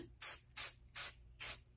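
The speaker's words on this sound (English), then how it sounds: "I am going to spray a little bit on" Four short hissing spray bursts of temporary fabric adhesive from an aerosol can, evenly spaced and fairly quiet, with no talking.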